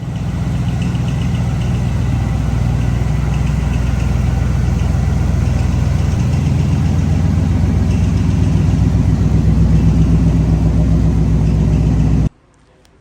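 A 1979 Chevy C30 dually pickup truck idles and rumbles as it pulls into a shop, a loud, deep, steady engine drone close by that cuts off abruptly near the end.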